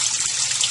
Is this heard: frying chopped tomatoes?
no